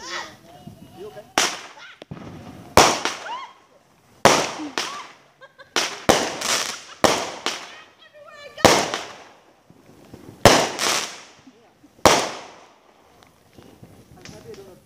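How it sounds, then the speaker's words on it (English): Fireworks bursting in a steady series of loud, sharp booms and crackling pops, roughly one every second or two, each followed by a fading crackle, with faint music and voices between the blasts. "I like the really relaxing music mixed with the fireworks."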